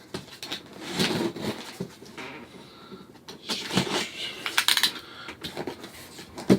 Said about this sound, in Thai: ตอนกรีดก็อย่าลงไปลึกมากนะครับเดี๋ยวทีวีของเราจะเป็นรอยนะฮะ